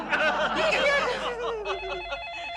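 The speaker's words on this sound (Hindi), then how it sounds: "फिर से फोन आया।" A telephone rings in a home comedy scene, a bright repeating electronic trill, loud and near, with some laughter mixed in early.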